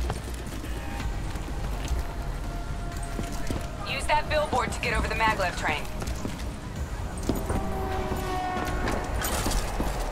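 Horse hooves clip-clop in Call of Duty: Black Ops III, a steady run of hoof beats mixed into busy game sound, with someone talking over it throughout.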